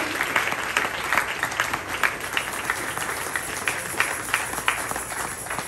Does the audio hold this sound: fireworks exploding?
no